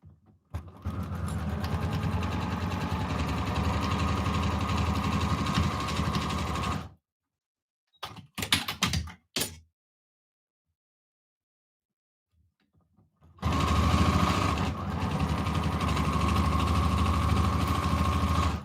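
A sewing machine stitches a quarter-inch quilt seam in two steady runs of whirring, with a short burst of stitching and a quiet pause between them, close and with no talk.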